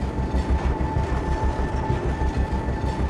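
A Philippine National Railways train rolling along the line in Lucena City, Quezon Province, a steady loud rumble with rhythmic low clatter and a faint constant tone, no talking.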